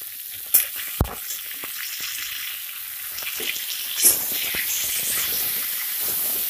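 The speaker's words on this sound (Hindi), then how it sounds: "अब हम इसमें ये टमाटर भी डाल दे रहे हैं" Chopped tomatoes sizzle and fry in an open pan for a pizza paratha, a steady close hiss with a couple of sharp clinks from a utensil and occasional stirring bursts.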